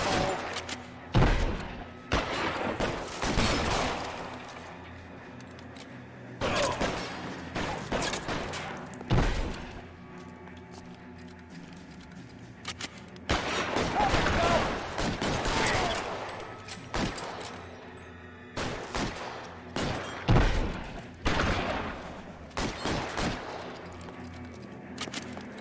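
Video game gunfire pops in repeated loud bursts and volleys across a firefight, spaced by brief lulls, with heavy thuds mixed in and occasional voices underneath.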